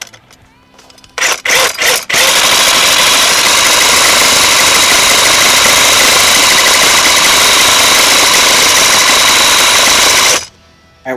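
A Milwaukee M18 FUEL Super Sawzall cordless reciprocating saw with a 12.0Ah battery, set to its lowest speed, gives a few short bursts and then a loud, steady buzzing rattle at close range for about eight seconds before cutting off.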